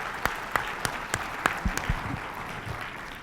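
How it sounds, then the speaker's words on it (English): Scattered claps from a small audience at a trading summit, a thin sparse patter of individual hand claps with a few louder slaps standing out, fairly quiet and fading toward the end. "another warm round of applause for Mr."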